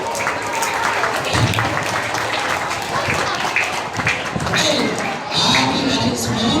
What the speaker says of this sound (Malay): tepuk tangan semua tu di sini